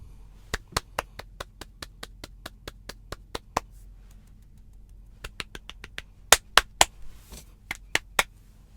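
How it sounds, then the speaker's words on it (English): Sharp single hand claps ring out one at a time in a quiet room, a steady run of evenly spaced claps, a pause, then a second irregular burst with a few louder, closer claps. "Did you hear that clap?"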